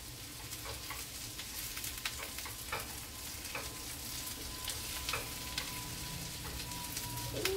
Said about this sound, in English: They're getting a little bit brown. I like that. They do better if I would quit stirring them.